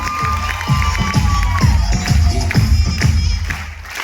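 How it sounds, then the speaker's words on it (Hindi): A crowd at a motivational speech event in Chhattisgarh cheers and applauds loudly, with a steady, rhythmic wash of clapping and shouting and thumping low pulses throughout. "Mercedes Benz owner mister Om Prakash Verma sir के जोरदार तालियां।"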